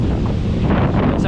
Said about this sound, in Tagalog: Guys, sobrang lakas talaga ng hangin, no?